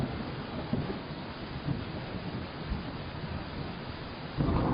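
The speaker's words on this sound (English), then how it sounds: "And thunder and lightning." A thunderstorm rolls through a garage-building video game: continuous rain hiss under repeated low thunder rumbles, with a louder rolling swell at the close, no talking.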